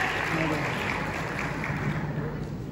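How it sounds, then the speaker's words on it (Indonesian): Audience applause at a high school competition event, a dense, steady wash of many hands clapping that stays loud and even for the whole stretch, with no voice rising above it. "boleh berikan tepuk tangan yang meriah untuk rumah dan juga para peserta kita"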